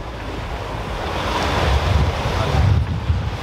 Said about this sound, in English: but now when we're at the beach